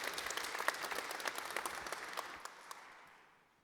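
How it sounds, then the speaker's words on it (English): Applause from a conference audience after a talk on transformation management and DevOps, a dense clatter of many hands that fades out toward the end. "Big round of applause."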